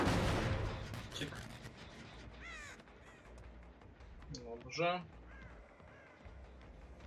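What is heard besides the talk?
crows cawing in the video game Dead by Daylight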